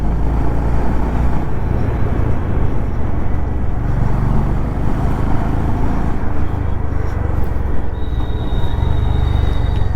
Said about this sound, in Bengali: That is the thumpy sound of this bike.